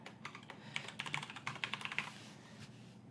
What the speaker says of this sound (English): Then we'll put in a password.